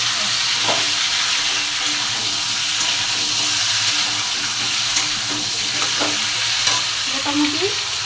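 Elephant foot yam curry sautés in a pan with a constant loud sizzle and occasional stirring clinks. Running water from a nearby tap or sink sounds underneath.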